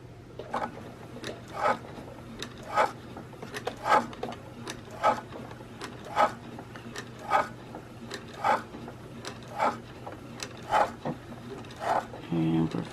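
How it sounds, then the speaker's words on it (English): A sewing machine stitches along a fabric edge while a baby pacifier clip is being sewn, making a steady mechanical hum with regular pulsing bursts nearly every second, close and continuous. "now we're just going to stitch along that edge a couple of times"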